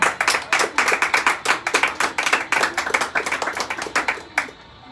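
A congregation at a church service clapping for the Lord, rapid rhythmic handclaps in a steady, slightly uneven beat, loud and close, ending abruptly.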